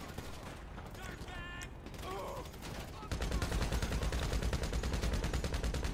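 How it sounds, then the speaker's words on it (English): Rapid automatic gunfire fires at police in a video game, starting halfway through as a loud, fast, steady rattle that keeps going to the end, with a talking voice earlier. "I'm shooting at the cops, bro."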